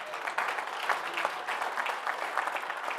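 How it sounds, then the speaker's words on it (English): Audience applause at a magic lecture during a recreational mathematics gathering, a dense, steady burst of clapping that fills the whole three seconds at close range. "Round of applause for these two gentlemen."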